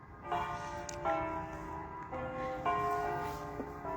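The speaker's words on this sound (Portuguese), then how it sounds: "Esse sino, você escuta ele quase de hora em hora." A church bell in Italy rings from a distance, several clear tolls a second or so apart over a faint outdoor background hiss, with no talking.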